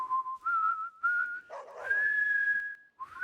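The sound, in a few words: person whistling badly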